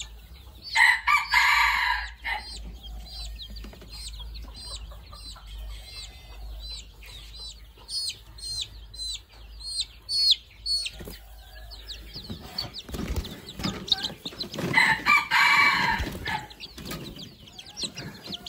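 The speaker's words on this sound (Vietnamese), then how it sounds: "Con gà F1 của mình nó gáy đấy các bạn." An F1 jungle fowl rooster crows loudly twice, once at the start and again near the end, with softer clucking and rustling between the crows.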